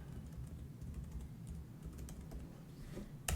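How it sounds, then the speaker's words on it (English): A password being typed on a Mac keyboard, soft quick keystrokes in an uneven run over a low background hum, with a slightly louder keypress right at the end; no one speaks. "I'm just going to put in a simple password."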